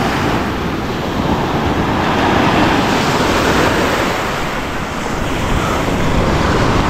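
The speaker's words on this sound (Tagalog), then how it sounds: "Lakas ng alon." Strong ocean waves roll and crash continuously along a shore, a loud, dense roar with wind buffeting the microphone and no clear pauses.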